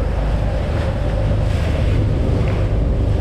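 Boat out on the Gulf of Mexico in rough water, a steady loud roar of wind buffeting the microphone over engine rumble and churning waves, continuous with no talk.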